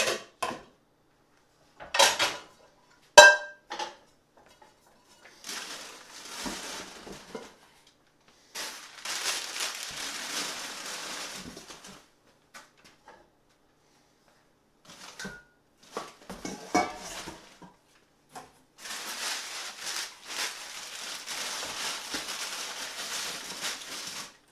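Glass pan lids being wrapped in paper and packed in a kitchen, with bursts of paper crinkling and rustling, a few light clinks of glass, and intermittent handling noise separated by quiet gaps.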